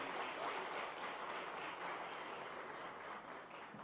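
Steady applause from a conference audience at a town planners' gathering in Ahmedabad, a fairly quiet, continuous wash of clapping that holds evenly for a few seconds.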